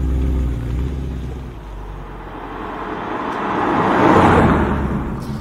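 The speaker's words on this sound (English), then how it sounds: "So here, I'm going to fire the engine responsibly." A 2012 Mercedes C63 AMG fires up with a deep rumbling idle, then its engine swells into a loud, rising roar as the car accelerates, peaking near the end before easing slightly.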